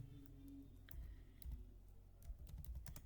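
Quiet typing on a computer keyboard while entering a multi-line Python comment: irregular little bursts of soft keystroke clicks with short pauses between them, close and faint, and no speech.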